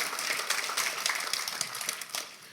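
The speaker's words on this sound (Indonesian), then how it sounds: "Oke, boleh tepuk tangan saudara." A church congregation applauding, a short burst of scattered claps at moderate loudness.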